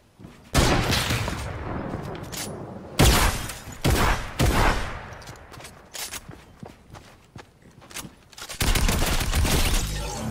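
Rapid bursts of video game gunfire in a two-versus-one match, loud volleys and single shots crackling in clusters with short gaps, close and dense throughout.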